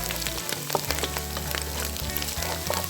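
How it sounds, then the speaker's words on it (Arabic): A medium onion fries in about two large spoonfuls of oil, giving a steady, fine crackling sizzle with soft popping bubbles throughout. "لازم احمرها كويس"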